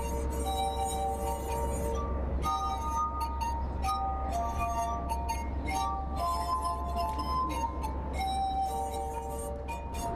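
A glass harp made of drinking glasses plays a Mozart piece written for glass, with sustained ringing tones that overlap steadily over a constant low hum of street background.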